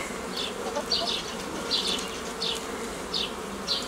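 Honeybees buzz in an open hive, a dense, constant hum from many insects close by, with individual bees' higher whines rising and passing at a steady pace.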